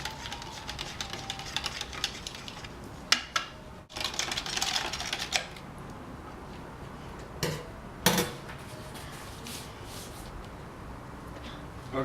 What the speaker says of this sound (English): you're gonna want to take your spoon, any old spoon will do, and stir them up